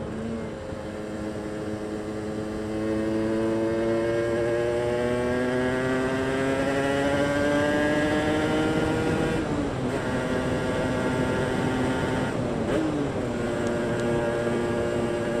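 A motocross bike engine with a faulty power valve revs steadily while being ridden, its rising and falling harmonic whine loud and close, with brief dips where the throttle eases off.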